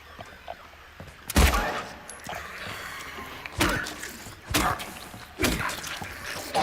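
Shots from a newly picked-up gun in a video game ring out as a series of loud, close bangs spaced about a second apart, each with a short booming tail, and no talking.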